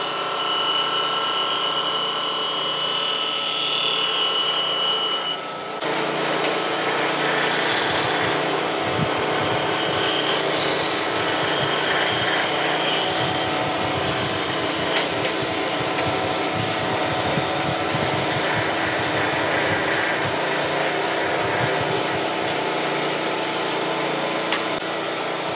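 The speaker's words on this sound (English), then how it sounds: "we're just going to go back and forth and let this thing spark out." A surface grinder passes back and forth over a back rail fence while it sparks out, giving a steady, loud, continuous grinding whine with a broad hiss. A brief dip comes near the start, then the sound runs unbroken to the end, with no talk.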